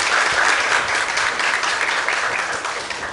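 Students in a grade 12 chemistry class clap for a classmate, a burst of dense, lively applause from the whole room that holds strong and then tapers slightly toward the end.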